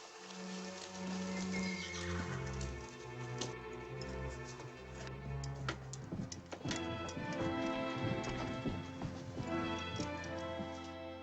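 A horse with a broken shoe whinnies loudly amid steady clip-clopping hooves, layered over a dense, busy background.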